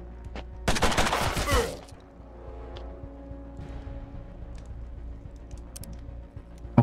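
Burst of rapid gunfire from a turn-based tactics game's firefight, loud and dense for about a second, then fading into quieter ambient game sounds with scattered small clicks.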